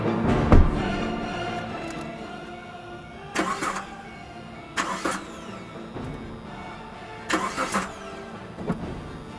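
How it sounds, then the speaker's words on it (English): Car engine cranking repeatedly without catching, several separate bursts of starter grinding spaced a couple of seconds apart over a quiet background. "The car won't start."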